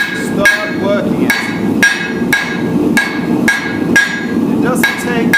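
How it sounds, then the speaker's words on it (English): Steady hammer blows ring out on a steel anvil horn while a leaf is forged, about ten sharp metallic strikes in an even rhythm, loud and close with bright ringing overtones. "Now I want to move to the horn of the anvil, if you got one. Start working it."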